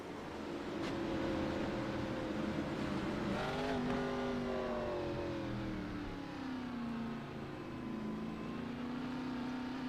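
Race cars in the iRacing video game at the Martinsville short track, a dense pack of engines droning together, with pitch dipping and climbing as they lap, steady and moderately loud.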